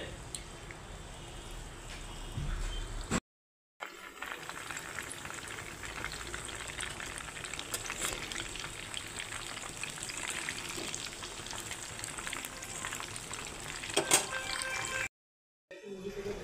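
Mutton tikiya patties sizzling in hot oil in a kadai, a steady crackling fry that runs throughout with a couple of brief gaps, mid-loud and close.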